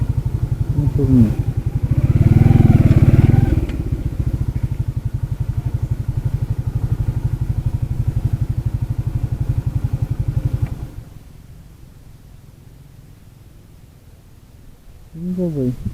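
Motorcycle engine running close by on a new road, a loud chugging idle that revs up briefly early, holds steady, then drops away to quiet before returning, with voices talking over it.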